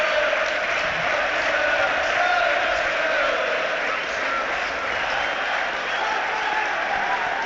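Everton football fans boo as the players and match officials leave the pitch after a match against Manchester United. A loud, unbroken crowd roar fills the whole stretch.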